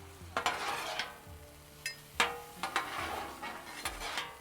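Beef and noodles in soy sauce being mixed in a pan, with intermittent scrapes and knocks of the utensil over a faint sizzle, close and fairly quiet.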